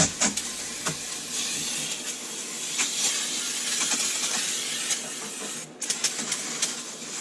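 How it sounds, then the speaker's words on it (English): A continuous close hiss of aerosol brake cleaner spray on a 2016 Jeep JK rear axle runs for several seconds, with small clicks and rattles mixed in. "spray with some brake cleaner"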